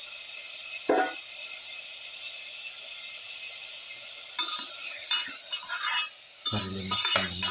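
Mutton pieces being stirred in a pan while cooking a pepper garlic lamb dish, with a quiet sizzle and a few scraping, clinking strokes that grow busier toward the end.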